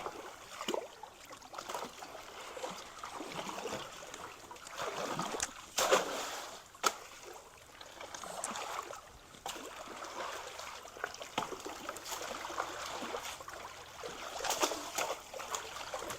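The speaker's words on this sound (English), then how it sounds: "All the water wants to go that way." A creek runs freely after a log clog is cleared, with continuous splashing and trickling water, close by and moderately loud, broken by occasional sharper splashes and no voices.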